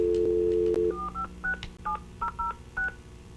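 Telephone keypad tones dial out to open a conference call at a planning and zoning meeting: a steady dial tone, then about seven short, evenly spaced DTMF beeps, clear and close, with no talking.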